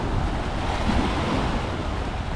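At Changi Beach in Singapore, waves wash in steadily with a constant surf roar, mixed with wind buffeting the microphone and no voices.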